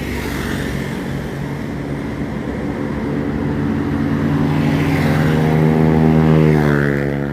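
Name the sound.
bus approaching on road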